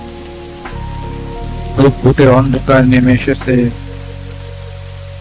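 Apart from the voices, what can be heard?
rain falling in a cartoon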